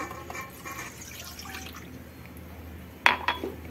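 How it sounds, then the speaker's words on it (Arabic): A glass of milk is poured into cake batter, heard as a soft liquid trickle that ends with a distinct glassy clink and a second lighter tap near the end, close and quiet without talking. "ندير كاس الحليب،"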